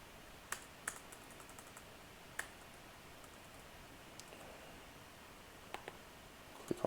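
Several sparse, quiet key presses on a computer keyboard, including a quick shortcut, come as isolated clicks over a low hiss with no talking.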